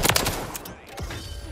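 Gunfire in Call of Duty Warzone, a few close sharp shots early on followed by scattered distant bursts over a busy game background, with no talking.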